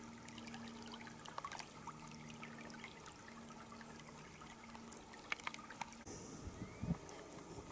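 Soft, steady trickle of water bubbling over stones in a stream narrows, faint and continuous, with a few small clicks and rustles nearby, in snowy woods.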